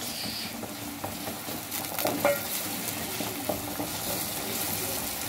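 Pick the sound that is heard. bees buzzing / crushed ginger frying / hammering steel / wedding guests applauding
crushed ginger frying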